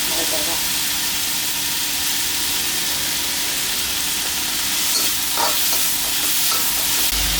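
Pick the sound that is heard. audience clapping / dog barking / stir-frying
stir-frying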